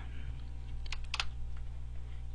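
Short bursts of typing on a computer keyboard while a new folder is named, with a few crisp key clicks over a steady low hum.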